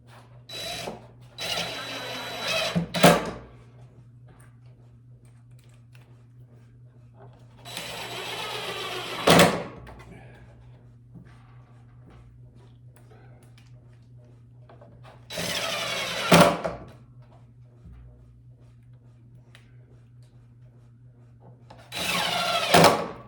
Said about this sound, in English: Now I'm going to put 4 screws in here